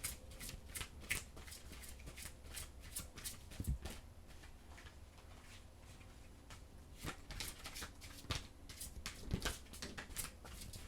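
Tarot cards being shuffled by hand, with quiet, repeated riffles and flicks that come in irregular bursts and are heard up close with no talking.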